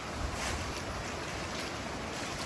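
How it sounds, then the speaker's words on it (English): Twentymile Creek flows beside a late-fall trail in the Great Smoky Mountains, a steady, dense rush of water that fills the whole stretch evenly without any talk. "It also parallels 20-mile creek,"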